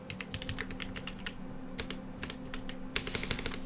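Someone types on an LZ GH V2 mechanical keyboard recorded close up, producing a quick run of crisp clacking keystrokes that ends in a louder burst.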